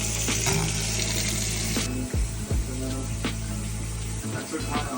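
Water runs from a faucet into a bathroom sink and drain in a steady splashing stream, with a few clicks and knocks near the start and middle.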